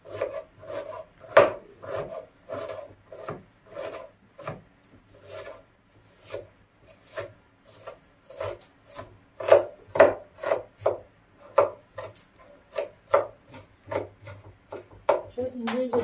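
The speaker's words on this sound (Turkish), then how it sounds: "Şöyle ince ince doğrayayım ki" A knife finely chops onions on a wooden board in a kitchen, giving a steady series of crisp, close taps at an uneven rhythm, with someone talking faintly in the background.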